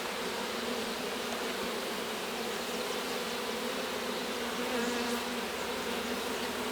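Honeybees hum in a dense, steady buzz around an open hive in a growing apiary, loud and close with no voices heard.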